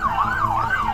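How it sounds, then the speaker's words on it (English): A police siren wails in a smooth, rising and falling sweep, loud and continuous with steady road rumble underneath. "Shut these sirens off."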